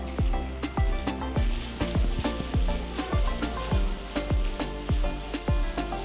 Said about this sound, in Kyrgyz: Пяздыбыз да куурулуп баштады